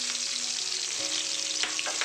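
Fish rubbed with salt and turmeric sizzles steadily in hot oil, a dense crackling hiss close by with a few sharper pops, and no one speaks over it.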